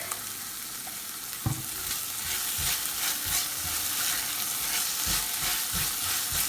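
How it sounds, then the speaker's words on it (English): A teaspoon of garlic sautéing in a pan while a peppercorn sauce for steak is made, a steady sizzle and frying crackle with a utensil stirring in intermittent scrapes, close and alone. "We're going to let this saute for a few minutes, okay?"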